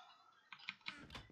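Several quick keyboard clicks close by, a short burst of typing on a computer keyboard after a quiet start.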